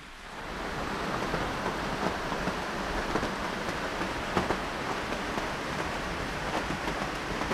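Steady rain falling outdoors during a stop on an e-bike trip in the Black Forest, a dense continuous hiss with soft scattered drop spatters, fairly loud and unbroken throughout with no voices.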